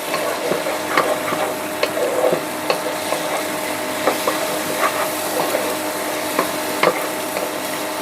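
Eggs fry with capsicum in a pan for a noodle dish, a steady close sizzle and hiss broken by light stirring scrapes and taps, with no talk.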